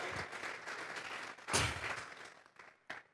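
A church congregation claps together during a worship service, a dense burst of hands that swells and fades, with a louder surge midway and a short final flurry.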